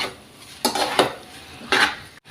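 Boiled chow mein noodles tossed in a pan with two spatulas, three quick clattering scrapes of metal against the pan over a low background hiss.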